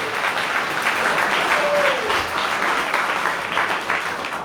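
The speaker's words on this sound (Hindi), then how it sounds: "बड़े शानदार तालियों से उनको धन्यवाद दें।" Sustained audience applause at a temple music competition in Savusavu, steady and dense clapping from a crowd, moderately loud and continuous throughout with a brief faint tone in the middle.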